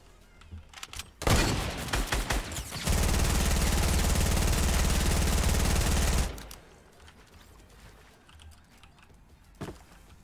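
P90 submachine gun fire in Fortnite, first as a few short bursts and then as a long, loud, continuous stream of rapid shots lasting several seconds, followed by scattered quieter game sounds.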